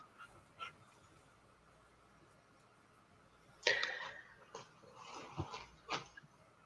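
A household dog whines and growls indoors in a few quiet, intermittent bursts after a near-silent stretch.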